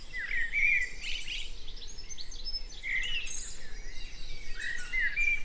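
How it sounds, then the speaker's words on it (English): A British robin sings beside an English garden pond in early summer, its bright warbling phrases arriving in several short bursts over a steady outdoor background with faint insect chirring. "here we have one of the singers, the quintessential British robin"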